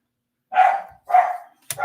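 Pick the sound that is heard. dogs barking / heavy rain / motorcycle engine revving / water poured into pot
dogs barking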